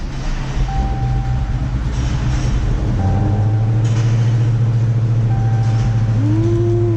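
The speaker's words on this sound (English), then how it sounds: "I'm gonna leave it off with Joe starting up his car for the first time." A new Dodge Demon's engine starts for the first time on the assembly line: a steady low rumble swells and holds under loud, continuous factory noise, with occasional tonal hums and a brief rising whine near the end.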